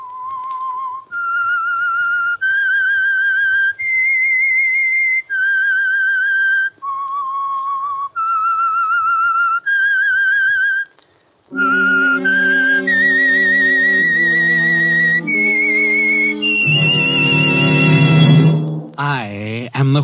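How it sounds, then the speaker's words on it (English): Whistled theme signal opening a Signal Oil radio drama, a solo melody of clear sustained notes rising and falling in short phrases, followed by a fuller orchestral passage with swelling chords, loud and close with no talking. "That whistle is your signal for the Signal Oil Program"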